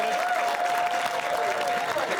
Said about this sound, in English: Give Devin a round of applause